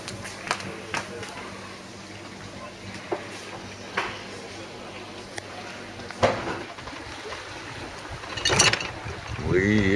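A sailboat glides through open water off Croatia, with steady wash and wind noise, occasional splashes and a louder surge near the end, while people talk faintly in the background.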